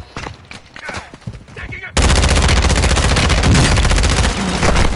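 Rapid automatic gunfire in Call of Duty: Warzone, loud sustained bursts of shots starting abruptly after a few seconds of quieter game sounds and scattered clatter.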